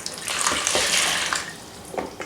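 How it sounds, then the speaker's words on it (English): Two cups of warm water pour into a bowl or dish as brine for apple-stuffed pork chops, a steady close splashing rush lasting about two seconds before tapering off. "go ahead and mix water, 2 cups of warm water"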